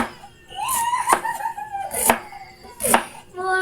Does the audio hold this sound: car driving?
no